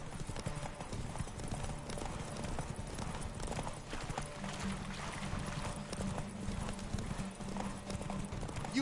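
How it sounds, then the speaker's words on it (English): A horse gallops in The Witcher 3: Wild Hunt, its hooves pounding in a steady rapid clip-clop beneath the rider, with occasional voices over ambient game sound. "Run, Roach"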